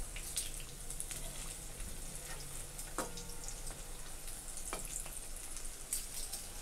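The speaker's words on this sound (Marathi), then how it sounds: "तर ह्याला छान असं तेलामध्ये आपल्याला फ्राय करून कडक होईपर्यंत चांगलं तळून घ्यायचं आहे।" Taro leaf rolls (alu vadi) fry in hot oil, giving a steady, dense sizzle that runs throughout, with a few faint ticks and clinks over it. It sounds close but fairly quiet, and nobody talks.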